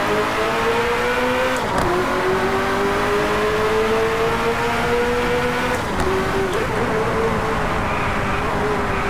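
A Ferrari F40 races in the DriveClub game with a loud, continuous engine roar that climbs in pitch and drops briefly at two gear changes, with no voices.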